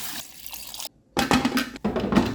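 Water poured into a pan of pigeon peas (kadyos) for an Ilonggo dish: bursts of splashing, gurgling liquid interrupted by a brief pause, close and moderately loud.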